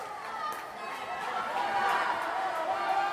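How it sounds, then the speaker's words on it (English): A swimmer's fan group cheers loudly at a 2012 Summer Games aquatics event, a steady crowd roar of voices and shouts rising slightly toward the end, with talk mixed in. "They're really loud and cheering her on, giving her all kinds of words of encouragement."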